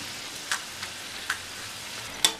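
Somas pastries deep frying in oil for Diwali sweets, a soft steady sizzle with a few sharp crackles and pops spread across the clip, no talking.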